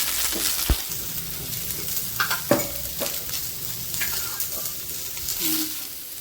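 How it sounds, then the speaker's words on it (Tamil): Radish, onion and mixed vegetables frying in a pan for sambar give a steady close sizzle, broken by a few sharp clinks and scrapes of stirring. "அடுத்து வெங்காயம், சாம்பாருக்கு தேவையான காய்கறியெல்லாம் போட்டுக்கலாம்."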